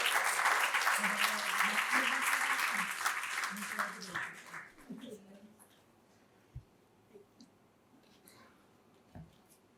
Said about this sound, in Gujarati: આપણે તાળીઓથી આપણી ઉપસ્થિતિનો અહેસાસ કરાવીએ